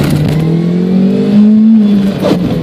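Mazda 323 GTX revving hard under full acceleration, the engine note climbing steadily close and loud before easing off near the end, with no talk over it.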